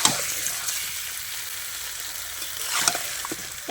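Tomatoes frying with onion masala in a pan, a continuous close hissing sizzle with a few scraping stirs near the end.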